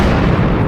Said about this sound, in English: adding in that little bit of delay helps make an explosion sound like what it is